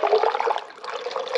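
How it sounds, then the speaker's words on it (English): RV antifreeze pours steadily through a funnel rigged to a hose, giving a continuous gurgling, rushing liquid flow that stays close and fairly loud for the whole stretch with a brief dip midway. "what I'm doing is dumping the RV antifreeze into the funnel."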